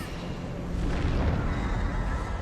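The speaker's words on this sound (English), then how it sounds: "Alright, flashbang." A flashbang goes off in God of War Ragnarök, a loud, dense roar that swells partway through and holds steady to the end, with no voices.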